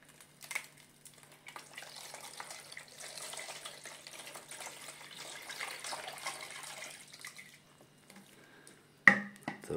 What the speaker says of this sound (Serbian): doliti vode